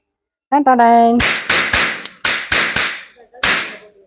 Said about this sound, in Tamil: இந்த ரவுண்டு கேப்பை வந்து இந்த துப்பாக்கியில் போட்டு வெடிக்க போகிறோம்